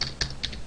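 Typing code on a computer keyboard, three quick key clicks in a short burst, close and crisp against a quiet background.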